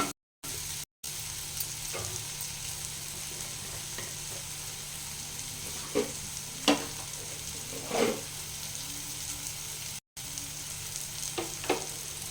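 Jackfruit and potato frying with spices and salt in a pan, a steady low sizzle running throughout, broken by a few soft scraping stirs around the middle and end; no talk.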